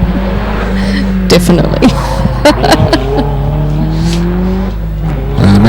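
A hillclimb car at Legend Of The Lakes accelerates up the course, engine rising through gears with loud revving and shifting, while a voice commentates over it and someone briefly speaks.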